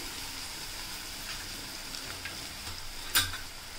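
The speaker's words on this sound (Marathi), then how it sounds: "इथे आपण आता कांद्यासोबतच लसूण सुद्धा पूर्णपणे शिजवून घेणार आहोत लालसर होईपर्यंत।" Onion and garlic frying in oil for a spicy dried fish curry, a steady soft sizzle throughout with faint stirring and one brief sharper crackle near the end.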